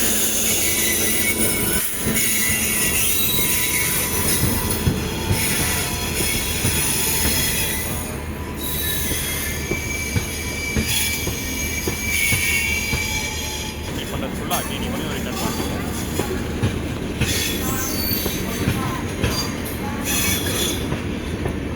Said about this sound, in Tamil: பெங்களூர் டபுள் டெக்கர் போகிறத பார்த்துருப்பீங்க